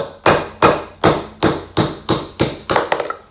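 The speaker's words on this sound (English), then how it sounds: "we don't have a puller, so we'll see if we can just punch it out from the other side" A hammer strikes a punch to drive a bearing out of a Craftsman 12-inch bandsaw, eight sharp metallic blows in an even rhythm, close and loud, with no talk.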